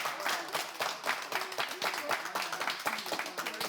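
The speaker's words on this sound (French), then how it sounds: "On les applaudit, s'il vous plaît." Studio audience clapping on a French TV game show after a challenge ends, a steady mass of dense, overlapping claps with small swells, fairly close and continuous throughout.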